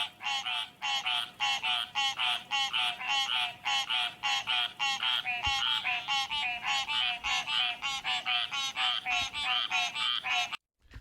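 AI-generated frog croaking soundscape: a steady chorus of rhythmic, repeated croaks pulsing many times per second, loud and continuous throughout before cutting off abruptly at the end.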